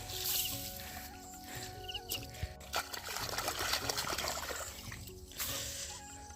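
Water trickles and splashes steadily into a rice paddy field in the open air, a continuous liquid gurgle with faint outdoor background noise.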